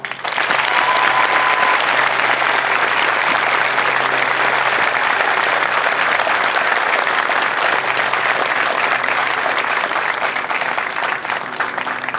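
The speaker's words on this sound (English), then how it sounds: "please join me in a round of applause" Crowd applause at a US Air Force Basic Training graduation parade, a sustained, even wash of many people clapping outdoors, loud and unbroken for the full length with no break.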